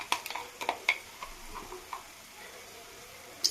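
Snakehead fish with mustard paste being stirred in a pan, faint scraping strokes and light ticks over a soft sizzle.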